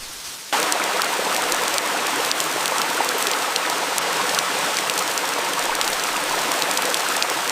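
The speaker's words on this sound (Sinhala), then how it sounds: "බලන්නකො නවතින්න නැතිවම වහිනවනේ." Heavy rain from Cyclone Ditwah pours down in a dense, continuous hiss, steady and unbroken throughout with no voices.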